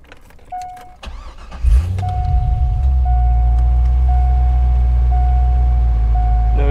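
A 2002 Chevrolet Corvette with a 6-speed manual cranks briefly and fires up, settling into a loud, steady low idle with a faint high whine on top.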